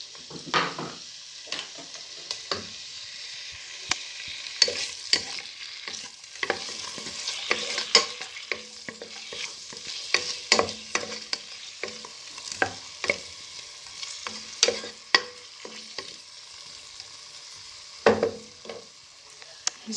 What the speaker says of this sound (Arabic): ندير هذاك الاسكالوب يتقلى